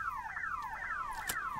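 An alarm in the first-person shooter Redfall, a rapid repeating electronic siren sweeping down in pitch over and over, steady and fairly loud, with a short sharp click partway through.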